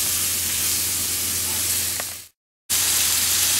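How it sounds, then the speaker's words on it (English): Vegetables for chicken marsala sauteing in a pan, a steady broadband sizzle with a low hum beneath, cutting out briefly for a moment of silence before resuming just as loud. "Give those a nice toss and let them saute away until they start to wilt, maybe get a little browned up on the bottoms"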